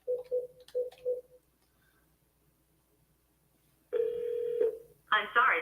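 A phone keypad beeps out a quick run of short dialing tones, followed after a pause by a longer electronic tone and then a recorded voice on the line.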